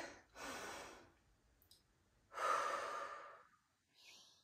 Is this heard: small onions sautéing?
no